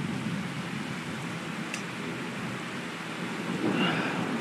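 Heavy rain pouring during a severe thunderstorm, a dense steady hiss of downpour with a brief faint crackle partway through and a swell of louder rush near the end.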